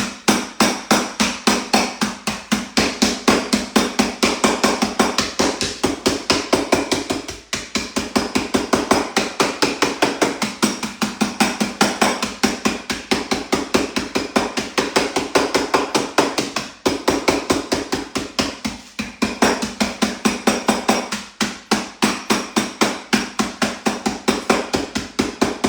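Ginger biscuits in a bag are whacked into crumbs, a fast run of sharp, loud, close thuds with only a few brief pauses.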